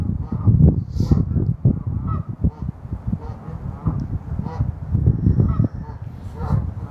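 Several geese honk loudly nearby at a pond in repeated, overlapping bursts, calling back and forth.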